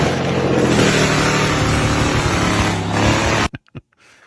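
A loud car engine with a long exhaust revs hard in a sustained, roaring drone, close and dominant, then cuts off abruptly into a few short sputters and near silence.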